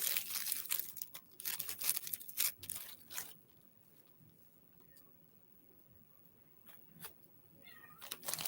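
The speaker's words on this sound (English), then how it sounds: "I hear a kitten" A kitten meows a few times indoors, soft, short cries that stand out after a stretch of crinkling and rustling handling noise close by, with quiet stillness between calls.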